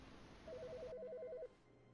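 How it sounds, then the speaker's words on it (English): A telephone rings inside the video game The Stanley Parable, giving a steady warbling electronic trill for about a second before stopping, with quiet background hum and no talk. "The phone's ringing."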